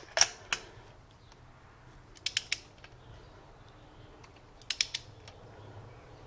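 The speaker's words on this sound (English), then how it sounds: "Set my handy dandy torque wrench." A torque wrench clicks while tightening spark plugs on a 2008 Toyota RAV4 2.4L 2AZ-FE engine, sharp metallic clicks arriving in small clusters over faint ratcheting and quiet background noise.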